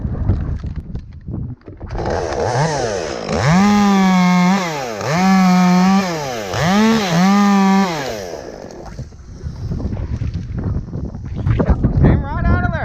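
Chainsaw cutting through a large elm tree during a removal job, revving in three strong rising-and-falling bursts with idling between, loud and near, with wind noise and voices around it.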